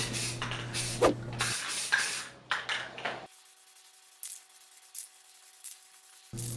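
Short bursts of aerosol spray as Rust-Oleum Flat White primer is applied to an old TV cabinet, a hissing stream near the microphone broken by gaps and quieter stretches.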